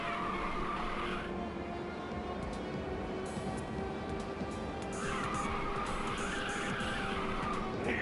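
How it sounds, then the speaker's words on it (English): Tires squealing as a drift car slides through a long skid in Ridge Racer 2, with a steady engine drone beneath a sustained screech that fades and then swells again. "I guess that's a benefit of the dynamic drift car in this track. It'll go into a drift on its own."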